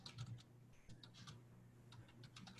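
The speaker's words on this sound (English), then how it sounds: "I'm typing out the questions so you guys will have these as reference" Rapid, uneven clicks of typing on a computer keyboard, quiet and close, with a steady low hum underneath and no talking.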